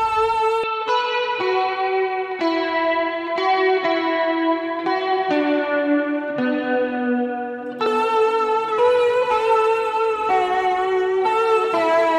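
Electric guitar chords played with a shimmering, swirling chorus effect, steady and fairly loud, each chord ringing into the next with no talking.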